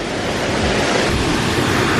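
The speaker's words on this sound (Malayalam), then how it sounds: "വെള്ളച്ചാട്ടത്തിൽ കളിക്കാൻ പോകുന്നു" Waterfall at Anakkulam in Munnar, a dense, continuous rushing roar of falling water, loud and close, with no voices.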